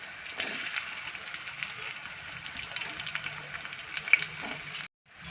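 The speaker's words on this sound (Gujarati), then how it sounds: "હવે અંદર ડુંગળી નાખી દઈએ આપણે।" Onions frying in a pan while cooking a Gujarati ivy gourd curry, a steady moderate sizzle with faint crackles and a stir clink, cutting off abruptly near the end.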